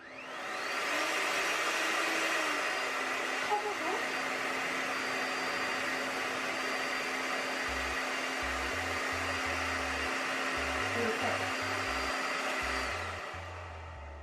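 A hands-free hair dryer blows steadily for the whole stretch, a loud, even whoosh with a constant motor whine that starts and stops cleanly, with no voices over it.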